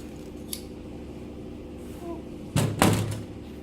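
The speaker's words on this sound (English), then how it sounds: "So let's cut a slice of this off." Scissors cut a slice of gauze fabric during a wool felting session: quiet room tone, then two close, crisp snips near the end.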